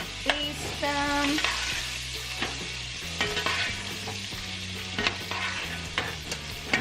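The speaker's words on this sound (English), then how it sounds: "So I have a tablespoon of butter here. And I'm just gonna baste them." Scallops sizzle in a pan as they are basted with butter, a continuous frying hiss with spoon clinks and scrapes against the pan, fairly quiet and close.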